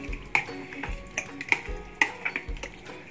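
A spoon stirs paneer with a spice paste in a pot for veg biryani, making a series of soft clinks and scrapes in irregular rhythm, close up with no voices.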